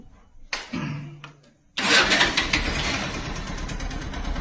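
A motorcycle with an electric self-start cranks briefly, then catches and fires up, settling into a loud, steady idle close by.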